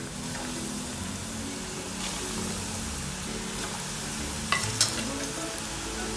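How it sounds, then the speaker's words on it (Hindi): Lauki koftas deep-fry in hot oil in a kadhai over a medium flame, giving a steady, dense sizzle and bubbling close by, with a couple of faint clinks of a utensil near the end. "अब मैं इन सब कोफ्तों को तल लेती हूँ।"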